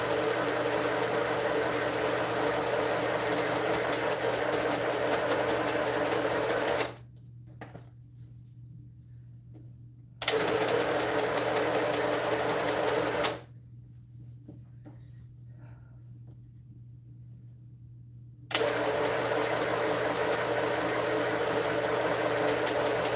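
Sewing machine stitching a quilt in bursts, a steady mechanical whir running for several seconds, stopping, starting briefly, pausing again, then resuming.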